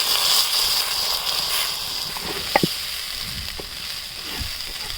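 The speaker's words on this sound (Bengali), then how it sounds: "আমি পোলাও চাল দিয়ে দিলাম।" Polao rice fries in oil, giving a soft, even sizzle with a few sharp clinks and scrapes from stirring, moderately quiet and close.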